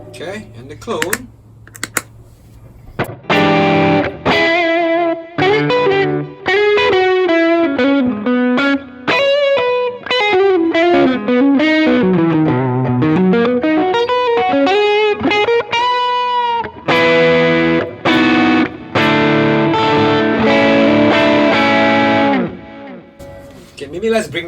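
An electric guitar driven by a clone of the Vemuram Jan Ray overdrive pedal plays after a few muted clicks, with loud overdriven chords, a descending and rising single-note run, then sustained crunchy strums, close and prominent.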